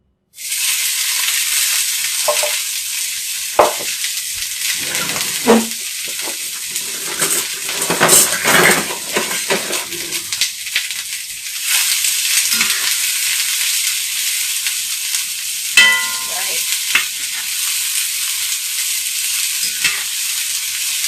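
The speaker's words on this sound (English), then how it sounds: "Hopefully you can hear me over all the sizzling." Steady, loud sizzling of vegetables frying in a pan, with occasional stirring scrapes and clinks of a utensil against the pan throughout.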